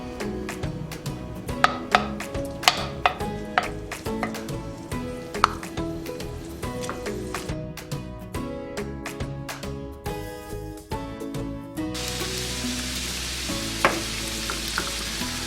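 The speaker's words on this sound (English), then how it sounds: "we want to make sure that when we add the beef that we don't smother the pan" Ground beef hitting a hot pan for an Italian meat and tomato sauce, sizzling steadily while a spoon scrapes and clacks sharply against the pan, with a louder burst of frying near the end.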